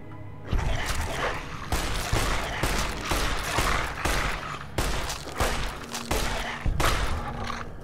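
A Magnum revolver fires in the video game Fallout New Vegas, a loud series of heavy shots spaced roughly a second apart, each followed by a short booming tail in a busy game soundscape.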